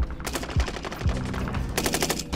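Rapid automatic gunfire in a shooter video game, a burst of fast, evenly spaced shots running nearly continuously and pausing briefly before resuming loudly at the end.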